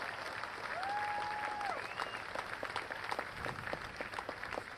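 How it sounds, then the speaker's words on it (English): Applause for a brave teenager at a beach vigil marking a week since a terror attack, a crowd clapping steadily and fairly close, with a faint whistle-like tone near the start. "Another round of applause, please, for this incredible woman."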